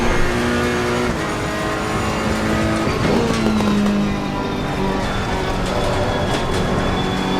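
A Ferrari race car engine in Assetto Corsa Competizione drones loudly and continuously, its pitch rising and falling through gear changes with brief tire noise, heard alone without talk.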